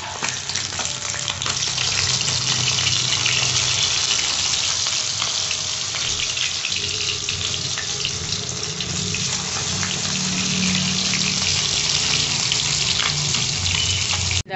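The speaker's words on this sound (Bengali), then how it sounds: "এখন সব ভেজে নিচ্ছি।" Rohu fish pieces fry in a pan with a dense, even hiss that holds steady and fairly loud for the whole stretch, with no voices.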